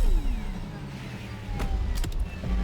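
Porsche Taycan Turbo S electric car in The Crew Motorfest, a synthetic arcade-style whine sweeping downward and then rising again, with brief sharp clicks near the end, steady and fairly close.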